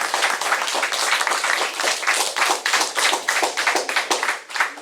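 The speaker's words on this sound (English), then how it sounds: "let's give one more round of applause" Loud, close applause from an audience, many hands clapping in a lively, uneven rhythm that holds steady for several seconds.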